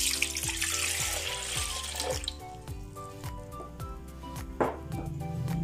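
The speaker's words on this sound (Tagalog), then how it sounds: "Lagyan natin ng 1 cup na tubig ang ating blender." A cup of water poured into a blender jar holding chili, onion and garlic for sweet chili sauce, a steady splashing trickle that thins into scattered drips and small plinks, close and alone.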